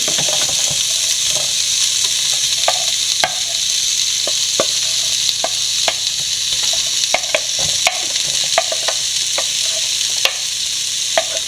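Onions and small shallots sautéing in hot oil in a pan for a Kuttanad-style duck roast, a steady close sizzle and hiss with occasional stirring scrapes and clicks, no talking.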